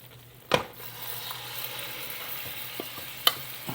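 Egyptian hawashi meat mixture frying in an oiled pan on a stove, a quiet steady sizzle with a low hum beneath, broken by two sharp clinks.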